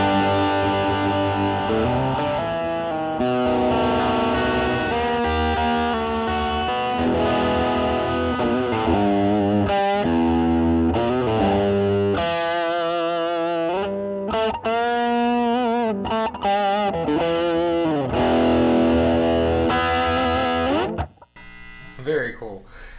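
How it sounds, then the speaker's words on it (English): An electric guitar runs through a Dumble-style overdrive pedal, playing loud sustained licks and bends with warm, saturated distortion throughout, then cutting off abruptly near the end. "So now let's hear how it sounds with the overdrive."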